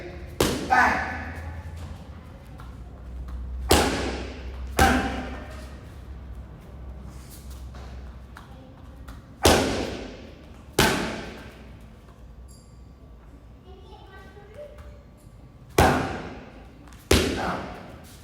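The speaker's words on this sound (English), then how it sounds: "So just to show you how I can put my power left uppercut and then my power right cross together" Muay Thai power punches, left uppercuts and right crosses, landing on a pad or bag: about eight sharp heavy thuds spaced irregularly, each with a short decay, with quiet gaps and faint background between strikes.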